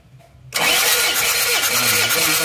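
An Isuzu Panther diesel engine, one with low compression, is cranked by its starter and catches at once, then runs loud and steady at a rough idle nearby.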